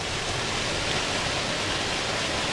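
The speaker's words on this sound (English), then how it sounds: "there's another little small waterfall right here." A small waterfall on the Trillium Gap Trail to Mt. LeConte, Great Smoky Mountains, rushes in a steady, broadband hiss, constant and even throughout, with no voices.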